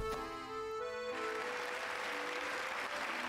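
Crowd applause in the video game Hollow Knight, a steady wash of clapping rising after a brief musical tone, continuous and moderately distant with no voices.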